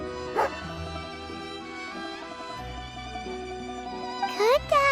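A dog in the video game Genshin Impact yips and whimpers in short high-pitched bursts near the start and again at the end, over a steady game music bed.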